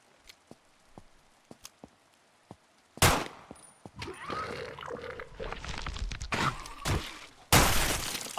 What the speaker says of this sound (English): 92R might be the sickest weapon in the game